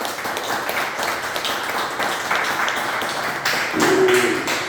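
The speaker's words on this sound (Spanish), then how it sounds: "denle un fuerte aplauso al Señor" A church congregation at a teaching service claps for the Lord, a loose patter of individual hand claps and taps that swells slightly toward the end, with a faint held tone near the close.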